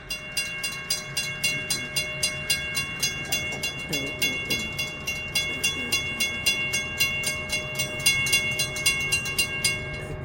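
A train passes on the Florida East Coast railway near bridge work. Steady, rhythmic clickety-clack from the wheels runs throughout, with sustained horn tones held over it.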